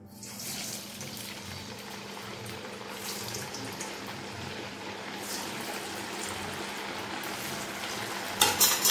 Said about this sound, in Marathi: आता हे तयार केलेले वडे आपण तेलात सोडूया।